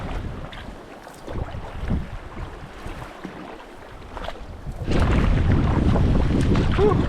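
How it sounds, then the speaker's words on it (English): Strong wind rushes and buffets the microphone while canoeing on a deep wilderness lake, gusting unevenly at first, then swelling into a loud, steady roar with waves and water noise for the last couple of seconds. "Wind's picked up a little bit here, but I think we can still manage it."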